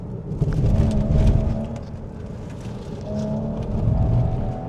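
A Porsche accelerating hard in second gear, a steady engine drone that rises and swells twice as it pulls, heard from inside without talk.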